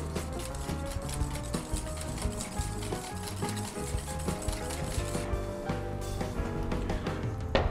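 A salad dressing of oil and water whisked vigorously for a potato mash salad, a continuous rapid rubbing and clicking rhythm close up, fairly steady throughout with no talk.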